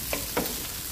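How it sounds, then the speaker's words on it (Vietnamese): King oyster mushrooms stir-fried fast over high heat, with a steady sizzle and two brief clattering stirs of the pan, close and alone. "Thì xào lửa lớn rồi xào nhanh á"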